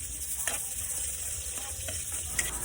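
Garlic sautéing in a mix of oil and margarine for pork rib caldereta, a steady close sizzle and crackle running throughout with a few soft spoon scrapes, no talking.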